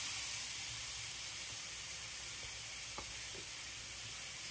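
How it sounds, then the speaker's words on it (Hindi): Grated mango hits a pan for sweet and sour mango pickle and fries with an even, faint, continuous hiss and sizzle, joined by a couple of small ticks and no talk. "अब इसके बाद हम इसमें जो हमने एक आम को कद्दूकस करके रखा था ये डाल देंगे।"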